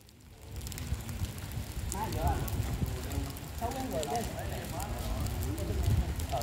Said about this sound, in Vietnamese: Mặc dù trời mưa rất to